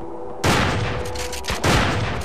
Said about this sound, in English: I'm gonna go pop off some shotgun shells